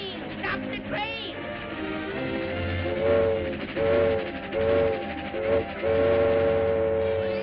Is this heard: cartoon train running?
yes